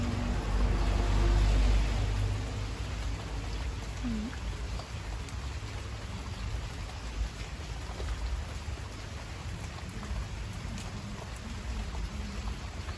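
Steady rain falling outdoors, a dense, even hiss of drops that runs the whole time, slightly heavier at the start, with faint voices now and then beneath it.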